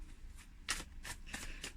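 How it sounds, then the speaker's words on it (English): Tarot cards shuffled by hand in a quiet room, a series of close, crisp riffling bursts at an irregular pace with no talking. "I'm going to go ahead and shuffle the cards"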